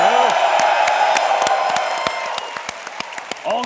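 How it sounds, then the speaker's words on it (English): A large crowd at the EVE Fanfest tournament cheers, whoops and claps loudly, with scattered sharp hand claps continuing as the cheering gradually fades. "I want a real honest cheer."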